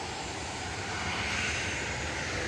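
A Loganair ATR 72 turboprop arriving at Manchester Airport makes a continuous loud engine drone with a broad hiss that swells slightly as it nears, and no other sound competes with it.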